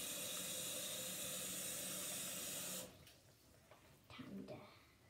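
Hot water running from a tap, a loud steady rush that cuts off abruptly partway through, followed by faint handling noises.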